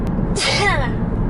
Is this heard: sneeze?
yes